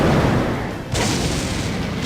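A deep, sustained blast rumbles through a battle scene in the visual novel Dies irae, hurling dirt skyward and leaving a crater, with a brief dip before the roar swells again and holds steady, loud and wide, with no voices.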